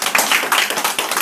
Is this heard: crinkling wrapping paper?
no